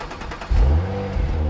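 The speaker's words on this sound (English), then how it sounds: "the GoPro is actually catching the sound like right out of the exhaust" A straight-piped Audi RS5 exhaust, caught close to the tailpipe, barks into a sudden loud rev after a quieter idle, then holds a deep burbling rumble.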